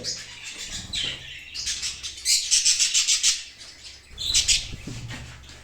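Show jumbo budgerigars chirp and chatter in quick bursts, close by, with some rustling and wing movement between calls.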